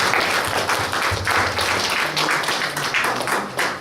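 A church congregation claps their hands together in a dense, continuous round of applause that stays steady and close throughout, with some voices mixed in.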